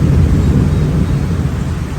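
Heavy rain pours down steadily with a deep, continuous rumble of thunder beneath it, loud and close throughout with no voices.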